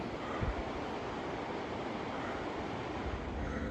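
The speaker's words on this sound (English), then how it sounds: "And look at the waterfall." Mountain waterfall near Ama Dablam in the Everest region, seen on a March trek: a steady, dense rushing roar that holds at an even level throughout, with no voices.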